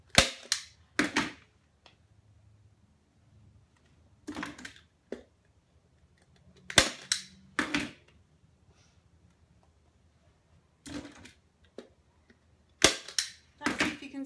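A staple gun drives staples through fabric into a cushion with sharp, close snaps, often in quick pairs, separated by quiet pauses of handling.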